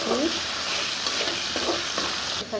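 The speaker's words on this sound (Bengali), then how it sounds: "খিচুড়ির জন্য আমি ভেজে নিচ্ছি" Potatoes fry in a pan for khichuri with a dense, steady sizzle, close and loud, broken by a few stirring scrapes before the sound briefly dips at the end.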